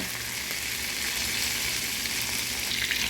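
Garlic frying in butter in a pan, a steady close sizzle and crackle that holds evenly throughout with no talking.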